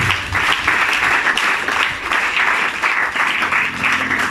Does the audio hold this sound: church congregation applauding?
yes